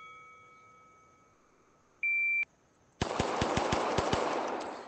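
Rapid gunfire from the ACE VR shooting game: a run of sharp shots in quick succession, preceded by a steady tone and a short beep.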